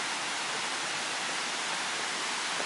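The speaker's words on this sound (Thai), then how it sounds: "ถึงแล้วครับ ตัวน้ำตกนะฮะ" Soi Sawan waterfall in Ubon Ratchathani, Thailand, heard as a steady broadband roar of falling water, continuous and even throughout without any voices.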